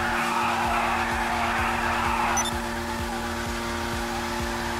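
A car launching in GTA 5 Online, loud engine roar with tire squeal and skidding that fades after a couple of seconds into a steady droning engine with rhythmic pulsing.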